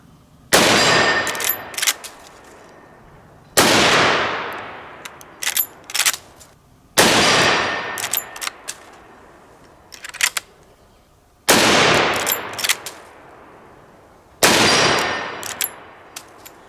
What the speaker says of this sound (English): I'm going to shoot 10 rounds through it with this new firing pin